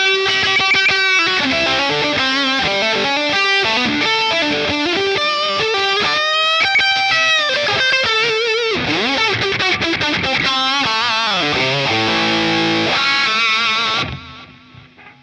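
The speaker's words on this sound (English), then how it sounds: "That's with the gain up full." An electric guitar runs through a Danelectro Cool Cat distortion pedal with the gain turned all the way up, producing loud, saturated chords and bending lead notes that ring out steadily before fading in the final second.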